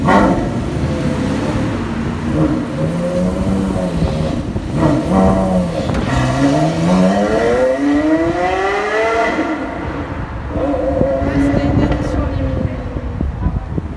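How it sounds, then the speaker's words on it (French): A Porsche Carrera GT supercar drives past on a busy Paris street; its engine note rises in pitch as it accelerates, loud and close amid steady traffic rumble. "Bon alors arrivé pile à temps, cette Porsche Carrera GT, vraiment très stylée."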